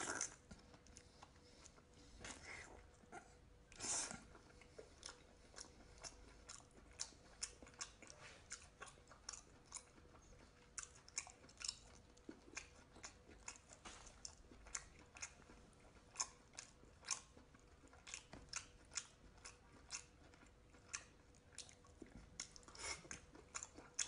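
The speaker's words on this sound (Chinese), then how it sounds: "我爆头嚼时间有点长" Close, wet chewing and crunching on braised duck head, with steady smacking bites and occasional sharper cracks running throughout, no talking.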